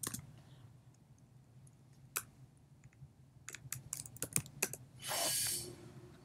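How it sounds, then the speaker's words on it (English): Keys clack on a computer keyboard while typing into the VS Code terminal on macOS Big Sur, a few scattered clicks building into a quick burst of typing, close and fairly quiet. "If you type here Python"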